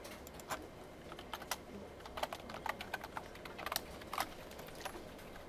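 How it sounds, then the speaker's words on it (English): Someone types on a computer keyboard during a lecture on graphical user interfaces, a quiet irregular patter of key clicks in bursts, close by and faint, with no talking. "I'm typing"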